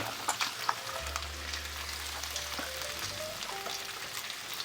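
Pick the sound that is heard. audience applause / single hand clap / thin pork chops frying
thin pork chops frying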